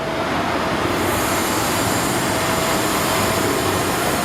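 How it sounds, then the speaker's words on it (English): A train rolls along its track at Universal Studios, a dense, continuous rumble and rushing roar that stays loud and steady throughout, with a faint high squeal of wheels. "And that's where you can sort of see the train running over."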